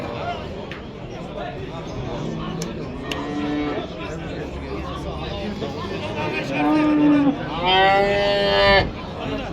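Cattle low repeatedly at the Kyzylorda livestock market, several drawn-out moos rising over a steady babble of nearby voices and people talking.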